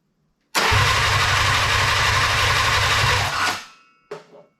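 The new engine in a Willys CJ-2A jeep cranks and catches with a loud, close roar, runs rough and steady for about three seconds, then cuts off, followed by a brief sputter.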